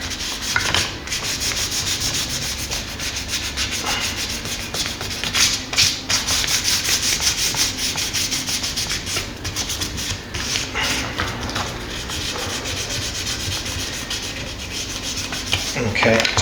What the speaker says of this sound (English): I'll just do the sanding with this 800 first